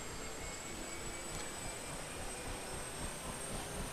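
A helicopter turbine engine runs up during startup in a flight simulator, rotors beginning to spin, heard as a steady, fairly quiet whooshing turbine whine with a faint high tone, constant and unbroken.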